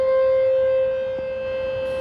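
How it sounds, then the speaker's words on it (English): A Cold War-era civil defense siren in Sacramento, part of the city's emergency siren system, sounds a steady mid-pitched tone that fades slightly after the first second, heard alone without voices. "The sound came from a Cold War-era civil defense siren"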